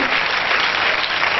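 A class of schoolchildren claps for a classmate during a school seminar, a dense, loud burst of close applause lasting only a moment with no talk over it.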